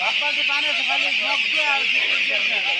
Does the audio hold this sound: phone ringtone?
no